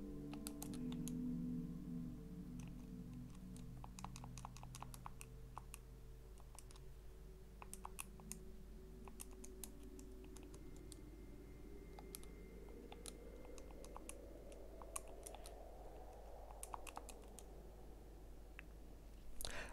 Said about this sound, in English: my keyboard sounds nice